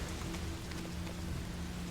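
Rain on a window in the video game Fatal Frame, a steady, soft wash of drops with a low hum beneath, continuous and even throughout, faint and alone.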